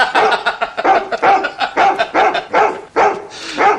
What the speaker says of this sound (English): Do keep that dog quiet